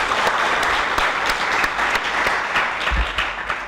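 A conference audience gives a steady, dense round of applause at the end of a long five-day event, many hands clapping together in a continuous wash with no talk over it.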